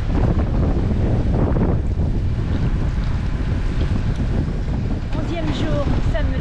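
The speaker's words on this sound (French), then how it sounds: "le vent part dans tous les sens, il y a pas mal de houles" Strong wind buffets the microphone aboard a sailboat on the open Pacific, roaring steadily with rushing water and swell underneath, loud and close, with some faint background noise.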